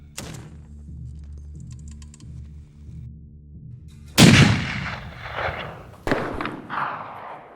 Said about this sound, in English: You hear the sharp, distinctive crack of a high-caliber 50-caliber rounds